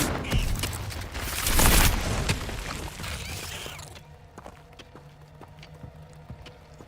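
A Confringo fire spell cast in Hogwarts Legacy bursts with a loud crackling blast that swells and then fades into scattered clicks and faint rumbles. No one speaks over it.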